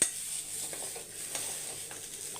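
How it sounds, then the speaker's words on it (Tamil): Potatoes frying in a pan alongside plantain, a soft steady sizzle with faint stirring and utensil scrapes, close and fairly quiet with no talk. "இதுலேயே வந்து உருளைக்கிழங்கும் வறுத்துடலாம்."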